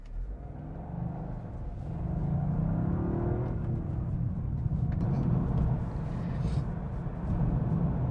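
Toyota GR Yaris hatchback engine droning and building in revs as the car drives on the road, a steady loud low rumble heard from inside the cabin with the pitch rising midway.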